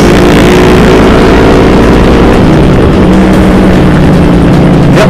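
A Yamaha R25 motorcycle accelerating on a busy Sunday road in Purbalingga, Indonesia, its loud engine droning steadily with rising and shifting pitch, close and continuous throughout, with no voices.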